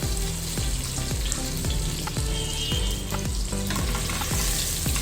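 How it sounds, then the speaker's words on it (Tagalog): Cloves, cinnamon stick, cardamom and cumin seeds fry in hot oil for a kofta meatball curry, a loud close sizzle with regular scraping stirs repeating about twice a second. "Also my cinnamon stick, cumin seeds also. Okay, so let's fry."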